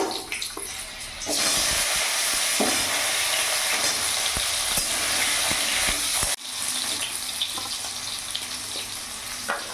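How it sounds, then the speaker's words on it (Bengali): Diced potatoes dropped into hot oil with dried chillies burst into a loud, dense sizzle that holds steady, dips sharply for a moment, then carries on with light stirring clinks. "এরই মধ্যে ডুমো ডুমো করে কেটে রাখা আলুগুলো দিয়ে দেবো।"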